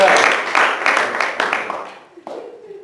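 An audience applauds for Jalen at a talk on student debt and scholarships. Loud, dense clapping fades out over about two seconds, then a voice starts speaking.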